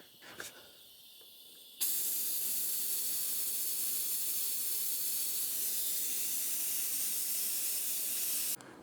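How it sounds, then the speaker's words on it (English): The bleeder on a motorcycle brake master cylinder, on a 2024 Triumph Speed Twin 1200, is cracked open, and a sudden loud steady hiss starts after a few faint clicks, holds evenly for about seven seconds, then cuts off. "Now we'll just go crack that bleeder on the master cylinder."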